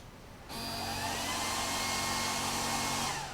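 An Ikier K1 Ultra diode laser engraver starting a job, with a steady whirring fan and motor drone that switches on abruptly and holds at even loudness with faint tonal whines, no talk.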